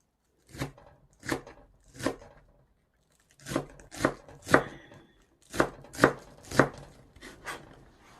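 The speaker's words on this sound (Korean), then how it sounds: "아주 다지듯이 썰어주세요." A knife finely mincing vegetables on a cutting board for cucumber kimchi, crisp close chops in short bursts of two to four strokes separated by brief pauses, no voices.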